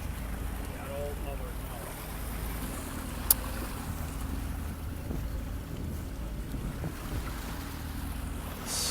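Dolphin-watching boats head out to sea, heard as a faint, distant engine drone under steady wind buffeting the microphone and the wash of open-ocean waves, with one brief sharp click partway through.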